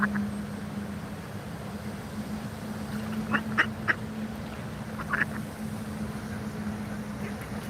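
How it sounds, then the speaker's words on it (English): Baby ducks at a park in Washington, D.C. give a few faint, soft quacks and peeps in short clusters over a constant low background hum, with no one speaking. "Oh, baby ducks."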